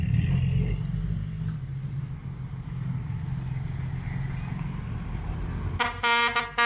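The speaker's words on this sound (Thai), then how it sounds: "โอ้เดก้าแตรนี่จี๊ดจ้าดเลยครับนะ" Horn blares loudly near the end, sharp and bright over a steady low diesel rumble, beside an excavator SANY SY135C being loaded onto a trailer.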